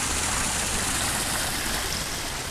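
Backyard pool waterfall pouring steadily, a dense, even rush of splashing water heard close and loud without a break.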